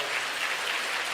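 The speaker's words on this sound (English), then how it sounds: "Clap it up." Audience clapping during a relationship talk, a brief, dense and even burst of applause.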